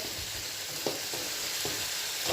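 Fish curry cooking down in a pan, a continuous close sizzle and hiss of frying with a few soft scraping knocks of stirring breaking in at intervals.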